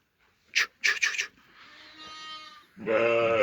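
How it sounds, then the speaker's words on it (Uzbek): A few short breathy bursts followed by a bleating cry from a pregnant native sheep, then a louder, sustained bleat close by. "Mana o'zimiz Jaydari qo'ylar tug'ishga yaqin bo'lib turibdi"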